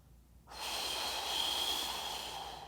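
Steady, close breathing in through the nose during a hamstring tendinopathy exercise, a sustained airy intake running for about two seconds after a brief quiet start, with no talking.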